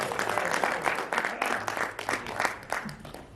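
Audience applause at a Hindi comedy poetry gathering (hasya kavi sammelan), a dense burst of clapping from a crowd, fairly close and sustained for a few seconds with uneven swells.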